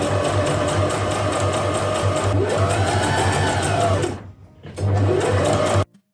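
A sewing machine stitches a seam through double-folded muslin over tape for a kaftan dress, a close, steady mechanical whir running several seconds, halting briefly, then resuming for a short final burst before stopping.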